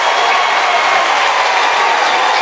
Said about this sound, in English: Dons faithful, up and cheering